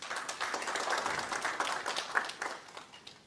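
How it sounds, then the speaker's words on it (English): An audience at an insurance sector CEO breakfast meeting applauding, a fairly quiet patter of many hands that rises and thins out unevenly over a few seconds. "we need to clap for ourselves"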